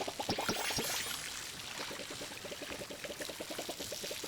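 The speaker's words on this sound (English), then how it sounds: "This is the fine watering can, I think." Water pours from a fine watering can in the farming game Palia, a steady close splashing stream with a rhythmic patter of droplets that runs throughout without pause.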